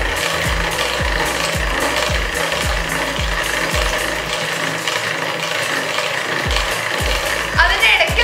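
An electric hand mixer beats chocolate truffle cake batter on its lowest speed, giving a steady close motor whir with regular knocking thumps as the beaters strike the bowl, and no talking.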